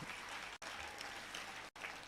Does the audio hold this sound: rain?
no